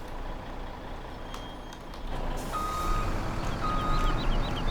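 Articulated truck reversing in Farming Simulator 17, its repeated reversing beeps sounding steadily over a low engine rumble, with a brief air hiss partway through.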